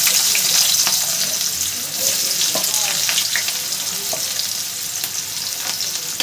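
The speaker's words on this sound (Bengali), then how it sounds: "তেল তো ভালোভাবে গরম হয়ে গেছে এর মধ্যে দিয়ে দিলাম পেঁয়াজ কুচি" Chopped onion dropped into hot oil in a pan, frying with a loud, continuous crackling sizzle and scattered pops throughout; no speech.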